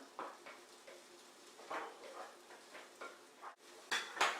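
Browned tofu and mushrooms being stirred in a pan, giving soft scraping utensil strokes in a loose rhythm over a faint sizzle, close and quiet, with no talking.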